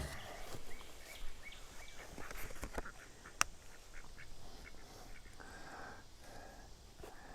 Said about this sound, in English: She doesn't mind the duckies, which are right over here this morning.